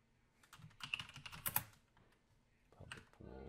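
Someone types code on a computer keyboard in a quiet room, producing irregular soft key clicks in a brief flurry, a pause, then a few more taps, with a person talking around it.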